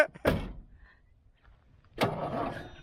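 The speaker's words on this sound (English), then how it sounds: "The truck cranks, we just gotta jump it off here." A semi truck engine cranks twice without catching, each attempt a loud, close churning burst separated by a pause.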